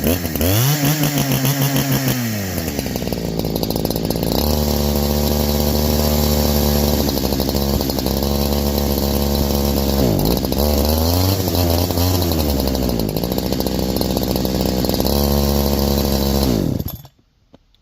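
Farmertec Holzfforma G372 XP chainsaw fitted with a Walbro HD12 carburetor, running loud and close for about seventeen seconds with repeated throttle rises and dips before cutting out abruptly at the end.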